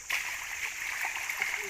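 Steady splashing and gurgling as water is poured over dug earth in a sieve while searching for gold in the jungle, continuous and close.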